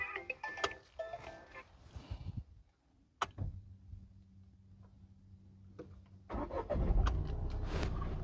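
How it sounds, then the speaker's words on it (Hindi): A budget passenger car cranks over with a sharp start, then settles into a steady, low, even idle hum for a few seconds. Outdoor noise and movement surround it before and after. "इसका इंजन आपको स्टार्ट करके दिखाते हैं"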